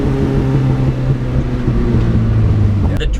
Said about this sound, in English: for a 4-cylinder engine, the exhaust does sound pretty good